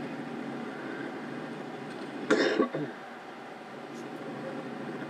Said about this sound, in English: I got this where I cough in here